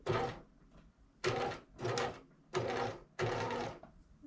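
A sewing machine stitches over piping in four or five short, close bursts with brief pauses between them, a stop-start rhythm of fairly quiet mechanical whirring.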